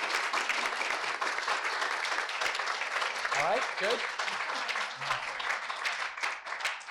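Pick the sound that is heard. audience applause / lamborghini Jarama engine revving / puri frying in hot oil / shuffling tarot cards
audience applause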